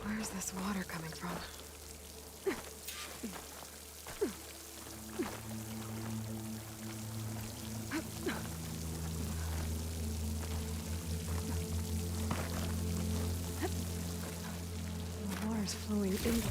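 Water flows and pours steadily into a wall in Horizon Forbidden West, a soft continuous stream under a low droning game backdrop with scattered clicks and a voice talking over it.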